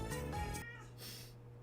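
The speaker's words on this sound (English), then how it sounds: "my cat's interrupted me" A house cat meowing indoors, one short, faint meow that fades into quiet room tone.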